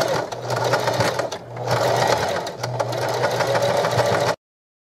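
A sewing machine runs a back-and-forth stitch through cushion fabric from an old chenille bedspread for a vintage rocking chair, a steady close whirring drone with a brief dip before it stops short.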